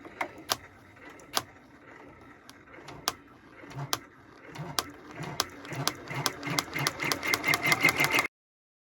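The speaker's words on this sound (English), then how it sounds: "go ahead and let it start stitching" A home embroidery machine stitches a design in turquoise thread, its rapid mechanical needle clatter building and speeding into a dense, steady rhythm before stopping abruptly. Close and clear, with no talking.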